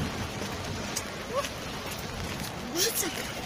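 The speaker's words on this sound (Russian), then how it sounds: "Дождик идет." April rain falling outdoors as a steady soft hiss, with a few faint voice-like sounds in the background.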